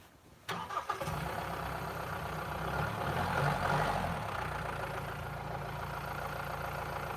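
A Mahindra 2.5-litre four-cylinder diesel cranks and catches, then settles into a steady, loud idle that rumbles on evenly with no talking.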